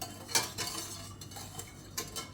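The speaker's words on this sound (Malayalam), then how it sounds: "ഇനി നമുക്ക് ഈ പാല് പകുതി ആകുന്നിടം വരെ നല്ലതായിട്ട് ഇളക്കി വറ്റിച്ചെടുക്കണം" A utensil stirs milk in a pan as it simmers down to reduce for mango kulfi, giving soft scraping sweeps and a few light metallic clinks, quiet and close with no talking.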